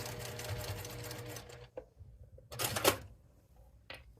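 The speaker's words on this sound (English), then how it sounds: "this side, I'm just going to baste at 1/4 inch" Sewing machine basting a quarter-inch seam on fabric for a playing cards case, a fast mechanical stitching whir in short bursts separated by quiet pauses.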